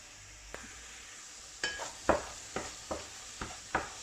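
A fish filling with parsley, garlic and coriander sizzles softly in a pan while a utensil scrapes and taps against the metal in a run of six or seven regular strokes.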